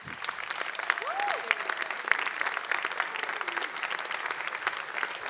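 A conference crowd gives a welcoming round of applause, dense clapping held steady throughout with faint voices mixed in, heard at moderate distance.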